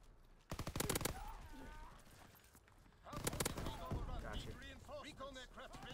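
Unsuppressed gunfire from a first-person shooter game, heard as two loud rapid automatic bursts close up, the second one longer, with game sounds and voices running underneath.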